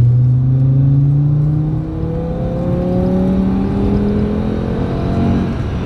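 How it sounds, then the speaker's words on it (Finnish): A Volvo rally car accelerates hard from inside the cabin, its engine note rising steadily through the gears in a loud, continuous drone with no talk over it. "Nyt otetaan vähän test riding, miten Volvo vetää."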